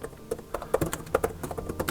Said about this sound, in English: let's do some actual typing, shall we?